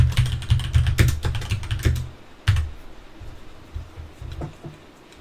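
Fingers typing a note on a computer keyboard, close and crisp, with rapid clusters of keystrokes that slow into scattered single taps toward the end.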